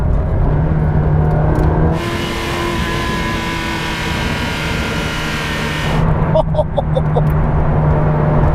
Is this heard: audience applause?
no